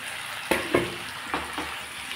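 Fish pieces, koi from the title, slide into hot spiced oil in a pan, setting off a steady sizzle with four distinct splashing bursts as they land one after another, close and fairly loud.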